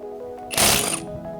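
An UBERMANN 18V cordless impact wrench on low impact with auto-stop loosens a car tire nut in one short, loud burst of hammering of about half a second, rising above the quieter background.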